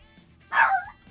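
A single sharp dog bark rings out indoors, loud and brief, set against a quiet background; the dog barks at noises coming from outside.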